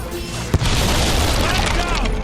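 A mortar explodes in the Fable 3 video game, a sudden deep boom followed by a sustained loud rumbling roar of blast and debris, with game dialogue beneath it.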